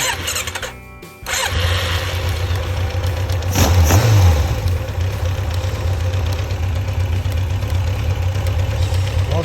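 Engine revving under applied throttle on choke during carburetor synchronization, a steady mid-pitched idle that swells into a brief louder rise near the middle before settling back, loud and close throughout.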